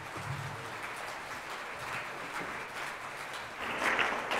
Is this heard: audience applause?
yes